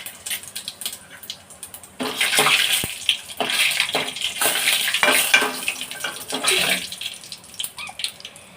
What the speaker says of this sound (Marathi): मी इथे तेल तापवत ठेवलंय। तर मी आता मोहरी टाकते, जिरं टाकते,